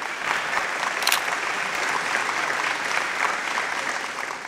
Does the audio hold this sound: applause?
yes